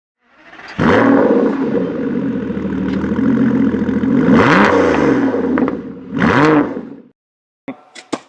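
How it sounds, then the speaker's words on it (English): A McLaren GT car exhaust with a loose heat shield rumbles loudly up close, revving up and down through several pulls, with metallic rattling under the engine before it cuts off. "you can hear that the heat shield is loose"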